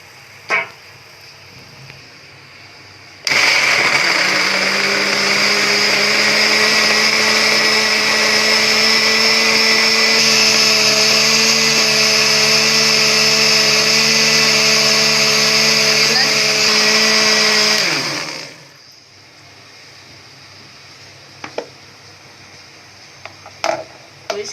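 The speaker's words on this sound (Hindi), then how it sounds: "तो इसे हम 1-2 मिनट और ग्राइंड कर लेंगे थोड़ा सा।" A mixer grinder whirs loudly through a batch of mango pieces and milk for kulfi, starting abruptly, holding a high steady motor whine with a slight pitch shift midway, then spinning down; faint kitchen clatter before and after.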